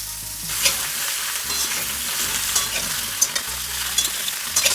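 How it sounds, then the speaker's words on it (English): Potato and pumpkin pieces sizzle and fry steadily in a pan, with occasional clinks and scrapes of a spatula stirring them, close and continuous with no talking. "Add first potato, little bit of salt, fry sometimes, then add pumpkin"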